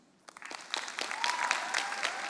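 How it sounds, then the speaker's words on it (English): A debate audience bursts into applause after a speaker finishes at a scholars' tournament showcase, clapping building from scattered hands into steady, full applause that continues throughout. "Let's give one more huge round of applause."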